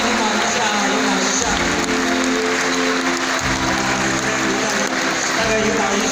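A crowd in a large hall applauds loudly and steadily to welcome the Changhua County magistrate at a Yiguandao association's 30th-anniversary thanksgiving gathering in Taichung, with an amplified voice speaking over the clapping.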